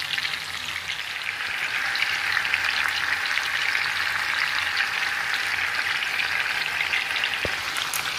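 Lamb leg pieces lightly frying in a pan, giving a loud, steady hiss and sizzle from start to finish with one or two small clicks near the end.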